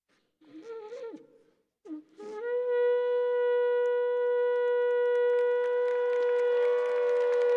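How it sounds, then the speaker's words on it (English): A rabbi sounds a shofar at a university commencement: a few short wavering notes, a brief pause, then one long, steady, brassy blast held for several seconds and rising slightly toward the end, clear and prominent in a quiet hall. "At this time, I will sound the shofar."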